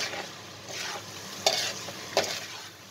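Minced pork sizzles steadily in a frying pan while it is stirred, with two sharp scrapes or clinks of the utensil against the pan standing out above the frying hiss.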